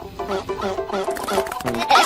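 Cartoon chicken clucking from the Happy Mrs. Chicken computer game, a rapid rhythmic series of close, bright clucks and squawks mixed with playful game sounds.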